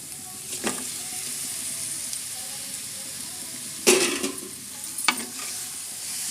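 Katti paruga fish frying in a pan with onion paste for a Godavari-style curry, a steady close sizzle running throughout, with a few louder stirring scrapes and clatters near the end.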